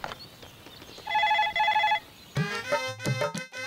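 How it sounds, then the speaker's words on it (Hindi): An electronic telephone ring repeats in two short bursts, followed by a brief stretch of tonal music or chiming; no speech. "रिंग हो रही है"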